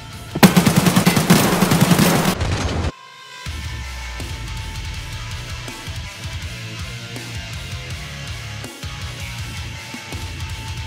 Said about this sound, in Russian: ЧВК стреляет.